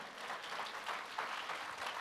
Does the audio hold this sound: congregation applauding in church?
yes